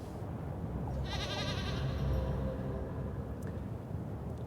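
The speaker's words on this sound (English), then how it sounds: "Is that a goat? That was a goat." A goat bleats once in the game Little Goody Two Shoes, a wavering call over a low rumbling ambient game background, moderately loud and followed by faint soundscape.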